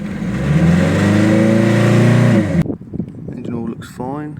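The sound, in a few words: Toyota MR2 Mk3 engine revving after fuel pump fit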